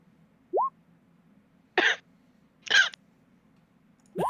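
Three short, dry coughs spaced about a second apart, close and fairly loud, between brief rising tonal blips over a quiet low hum, with no talking.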